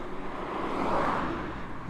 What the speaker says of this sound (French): avec les voitures qui passent, c'est un peu problématique